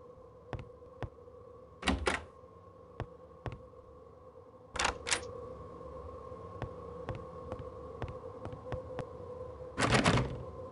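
A locked door is tried in the Agatha Christie: Murder on the Orient Express video game: sharp, fairly close clicks and thunks, with clustered rattling bursts between quieter single taps.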